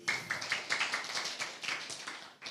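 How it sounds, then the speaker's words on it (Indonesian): A church congregation claps briefly in applause, a quick run of close, sharp hand claps that gradually thin out over a couple of seconds. "Beri tepuk tangan dong saudara."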